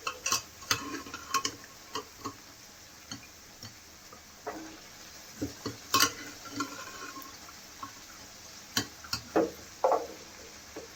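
Cooked chickpeas go into a masala frying in oil, heard as faint scattered clicks, soft stirring taps and a low sizzle over quiet background, with sparse sharper ticks throughout.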